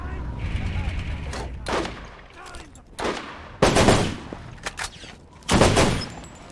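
Bursts of gunfire from Borderlands come in several separated volleys: sharp cracks and rattling automatic fire, loud and close, with quieter gaps between.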